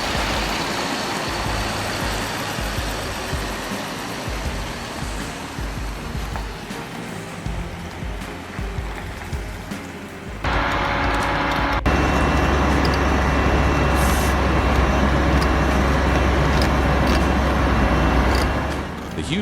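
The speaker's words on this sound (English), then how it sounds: "This huge truck is moving along the road, carrying a huge Caterpillar truck" A heavy truck hauls a huge Caterpillar truck along the road, its engine producing a steady, dense rumble that swells louder and fuller partway through.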